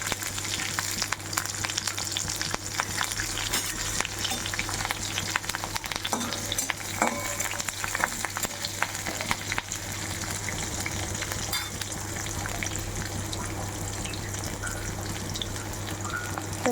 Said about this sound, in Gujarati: જીરું ગરમ થઈ ગયા પછી આપણે લીલા મરચાં મીઠું લીમડો નાખીશું